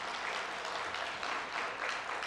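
A church congregation at a New Year special dawn service gives a brief burst of applause, dense and fairly faint, lasting about two seconds.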